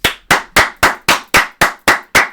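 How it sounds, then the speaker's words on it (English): Applause for the St. Louis Cardinals heard as nine single, sharp, evenly spaced claps, close and dry, with a clean gap between each strike and no voices. "Let's give a round of applause for the Cardinals."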